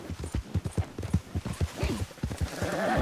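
A horse in the video game Red Dead Redemption 2 clops its hooves in a quick, uneven rhythm, loud and close, with a rising rustle of movement toward the end.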